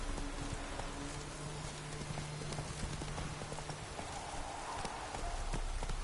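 A horse galloping in the video game The Witcher 3, a steady rhythm of hoof clip-clops over a soft rain-like wash of ambient noise, quiet and continuous with no talk.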